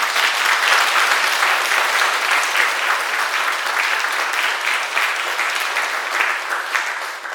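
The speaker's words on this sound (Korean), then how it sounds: "목사님들에게 박수를 한번 드립니다" A church congregation at a pastors' ordination service claps for the newly ordained ministers, a loud, close, sustained round of applause that stays dense for several seconds before easing off near the end.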